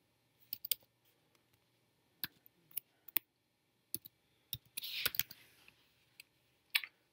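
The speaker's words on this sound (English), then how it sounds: "we're gonna click add new rule" Computer mouse clicks while working in a Sophos XG firewall web interface, a sparse series of sharp close clicks, some in quick pairs, with a brief rustle midway and no talk.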